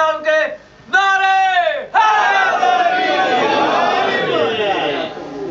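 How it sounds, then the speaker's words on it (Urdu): Crowd at a Muharram religious gathering in Vienna shouting slogans with raised hands, a loud massed chant rising in short calls then a sustained roar of many voices filling the hall. "دو ہاتھ بلند کر کے نعرے"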